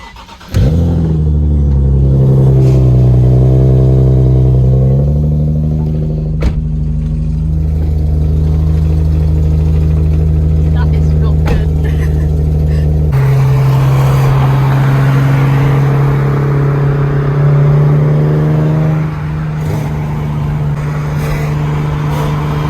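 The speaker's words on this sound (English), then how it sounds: "cold start." Cold start on a Scion FR-S car, a loud engine bursting to life and holding a high, steady fast idle that drops a step partway through. The drone stays close and constant, with no voices.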